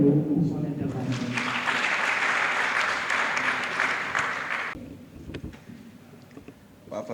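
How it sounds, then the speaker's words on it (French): Audience applause at the opening of a university event: voices first, then a broad burst of clapping swells and holds for several seconds before cutting off, followed by scattered claps and murmuring talk. "je vous invite s'il vous plaît à accueillir avec un tonnerre d'applaudissements"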